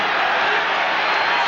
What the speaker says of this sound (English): Again, the crowd picking up the intensity here. The noise level.